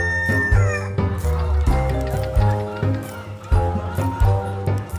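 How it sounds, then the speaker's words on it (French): Chickens and roosters at an indoor poultry show, with loud overlapping crowing and clucking from several birds nearby, plus some hall background noise. "Pigeons, lapins et volailles ont ainsi émerveillé petits et grands."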